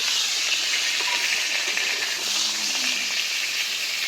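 A steady, loud sizzle and hiss of whole pointed gourds frying in hot oil over low heat, continuous throughout with no voices.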